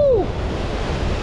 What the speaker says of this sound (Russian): Смотрите, какая волна. Бежим на нее.